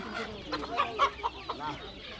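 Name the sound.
chicken clucking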